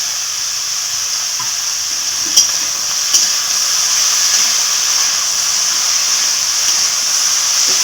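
Slit green chillies fry in hot oil with a steady, loud hiss and sizzle that carries on unbroken, with a couple of sharp spits partway through.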